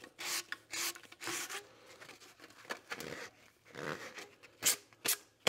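The burred edge of a PVC tube gets scraped smooth in a series of short, faint rasping strokes with uneven pauses between them, close by and without talk.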